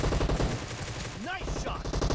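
Video game gunfire from an online domination match on an Asia server, a dense continuous crackle of shots with a whistling sweep partway through, loud and steady throughout.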